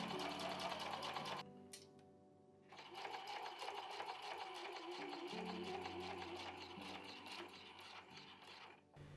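A sewing machine stitches the bottom seam of a quilted appliqué fabric bag in quick, close mechanical bursts, stopping briefly before running on again, with faint handling noise between.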